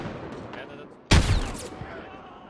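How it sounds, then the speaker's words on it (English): A grenade explosion in a video game, one sharp loud blast that rings out and decays after a stretch of quieter game sounds and gunfire. "He actually killed Omni with that grenade"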